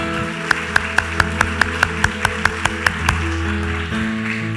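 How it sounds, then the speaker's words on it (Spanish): A church congregation claps to the Lord in an evenly spaced beat of sharp, unison claps over a sustained musical backing, about a dozen claps that stop near the end. "Dale un fuerte, fuerte aplauso al Señor."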